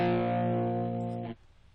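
A single sustained electric guitar chord through a distortion pedal modeled on a Boss unit rings out loudly, thick with harmonics, then cuts off abruptly, leaving a faint hum.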